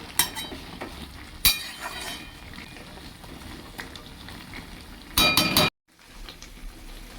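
Vegetable curry with bori is mixed in a pan, giving close metallic clinks and scrapes at the start and a loud burst of stirring near the end, then a brief hush.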